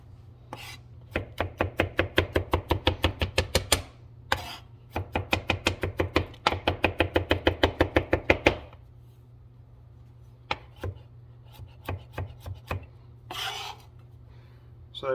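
Kitchen knife chopping onion, celery and garlic on a cutting board: two long runs of quick, steady, evenly spaced chops, close and crisp, then a few scattered single cuts and scraping strokes.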